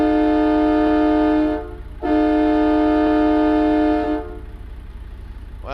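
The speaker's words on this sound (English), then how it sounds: "at least I know it's got a train horn on it for sure" A truck's train horn blasts loudly in a truck-driving video game, two long sustained multi-tone blares separated by a brief gap, followed by a low engine rumble.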